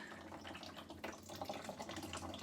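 Beer wort from a Mangrove Jack's Kveik IPA kit dribbles through a hop filter, making a continuous close trickle and splash of liquid falling into a vessel, with no talking.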